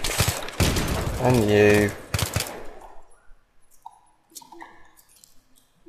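Gunfire in the Battlefield 3 campaign, a loud dense burst of rapid shots over the first two seconds with a brief voice, then fading to quieter game sounds.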